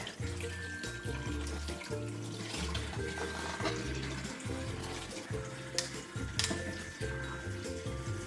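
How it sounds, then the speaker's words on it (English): Tap water runs steadily over a crab being rinsed before cooking, a continuous broadband rush lasting throughout with a low, tonal backing underneath. "I'm going to wash this through running water"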